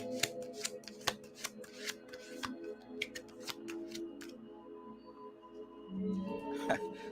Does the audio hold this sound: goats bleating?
no